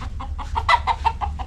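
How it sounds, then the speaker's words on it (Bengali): A rooster and hens clucking on the grounds of a riverside resort, a close run of about eight quick rhythmic clucks with one louder call in the middle, over a low background hum. "পাশে দেখতে পেয়েছি একজন মোরগ"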